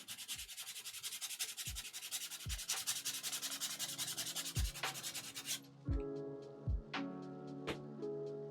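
Sandpaper rubs back and forth along the edge of a veg tan leather wallet in quick, steady strokes, close and fairly quiet, with a few sharp knocks and a change in texture near the end.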